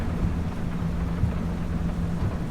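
Rain falls steadily in a farming video game during a plowing session, a continuous even hiss that stays at the same level throughout, with no voices.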